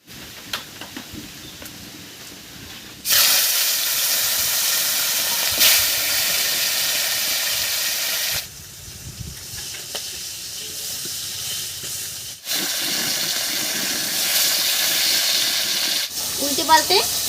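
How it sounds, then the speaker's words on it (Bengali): Rohu fish head frying in mustard oil in a kadai gives a loud, continuous sizzling hiss that surges and drops back in several long stretches, with quieter crackling in between. "এবারে সর্ষের তেল দিয়ে মাছের মাথাটা ভেজে নিয়েছি"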